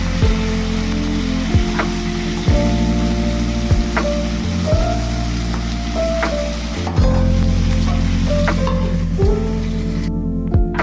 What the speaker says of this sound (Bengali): ভেজে নেব পটলগুলো